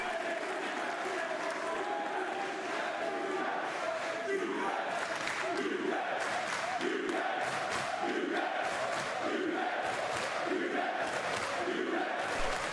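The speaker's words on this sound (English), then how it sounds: "Man, this crowd's pumped," A wrestling crowd at an NXT UK live show cheers and chants loudly, a sustained roar with rhythmic chant pulses filling the arena throughout.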